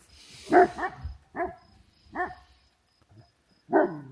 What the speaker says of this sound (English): There are some dogs on the neighbor's land, and of course they're barking back and forth.